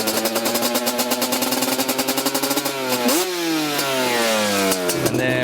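A 2006 Yamaha Banshee ATV's two-stroke engine runs at a fast idle, a loud, close, buzzing rattle with steady pulsing that rises and falls in pitch as the throttle is blipped near the end.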